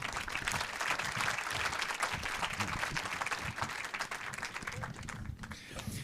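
A conference audience at a talk on capitalism applauds warmly, with dense, continuous clapping at full strength that thins a little toward the end.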